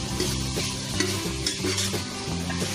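Fried paneer being stirred into curd in a pressure cooker, a steady rhythmic scraping and mixing over a gentle sizzle, close and alone with no speech.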